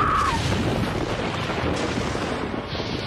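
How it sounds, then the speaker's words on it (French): Gunfight scene in an action film with guns and fireworks: a loud, continuous roar of blasts and rumbling booms with no distinct separate shots, steady from start to finish. "se croiser pour un gunfight avec flingues et feux d'artifice au menu"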